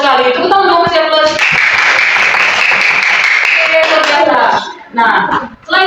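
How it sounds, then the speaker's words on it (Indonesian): A classroom group claps hands over a rhythmic musical backing, loud and busy, with voices joining in and a few separate claps at the end. "Tepuk tangan dong"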